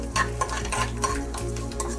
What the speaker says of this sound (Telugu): పచ్చిమిర్చి వేయించుకున్నాను. బాగా ఆయిల్ వేసి వేయించుకున్నాను.